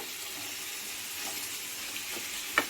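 Cabbage curry cooking in a pan gives a soft, even sizzle, faint and close, with a small clink of the utensil at the end.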